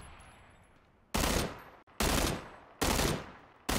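Gunfire in PUBG: three loud, sustained bursts of dense automatic fire, each about three quarters of a second long, separated by short quieter gaps, with a fourth burst starting at the end.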